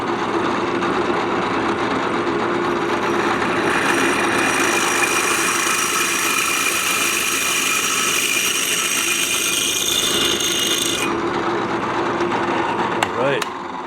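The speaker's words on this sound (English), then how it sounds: "So I'm going to drill this out." A power drill runs steadily while drilling out a 1920 overflow tank, a continuous whining grind that holds for several seconds and then cuts off abruptly near the end.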